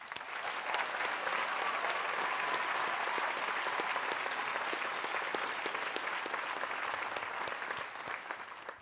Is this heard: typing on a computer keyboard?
no